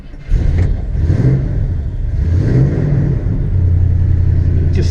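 Ford Gran Torino V8 fired with the starter button, catching quickly and settling into a loud, steady, lumpy idle close by with no talking.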